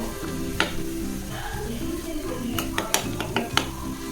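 Oil sizzles and fries steadily in a pan while homemade hair oil cooks, with a few sharp clinks of a spoon against the pan.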